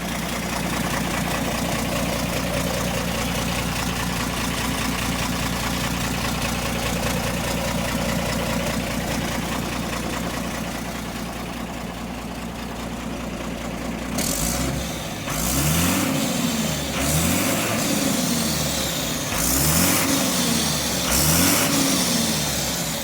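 A 2012 Tata 12-tyre diesel truck engine idles with a steady low rumble, then revs repeatedly in rising and falling bursts, close and loud.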